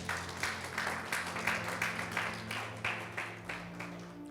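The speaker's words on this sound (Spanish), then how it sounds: "Denle un buen aplauso a Jesús" A church congregation applauds with steady, dense clapping at moderate distance, filling the room, with low background hum underneath.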